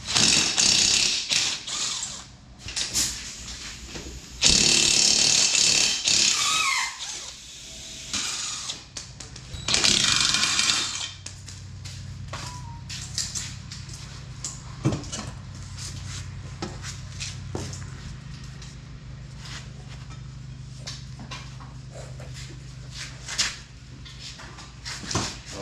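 Ratchet clicks and metallic mechanical rattling as wheels are fitted onto a race car, in loud bursts at the start that thin to scattered, quieter clanks and ticks over the rest.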